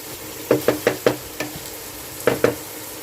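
A spatula stirring poha with carrots and ground black pepper in a pan, about seven sharp knocks against the metal in two bursts over a soft background hiss.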